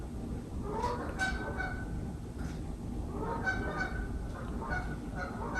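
Geese honk in several scattered bursts over a steady outdoor background, with the calls moderately distant and no talking.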